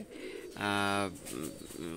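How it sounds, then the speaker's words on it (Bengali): Pigeons coo inside a crowded breeding loft, where a loud, sustained tonal call rises near the middle over a murmuring background, and a person's voice is also audible. "কবুতর, অনেক কবুতর ভরা।"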